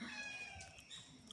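A cat at a rural village home gives one faint, short meow over quiet surroundings.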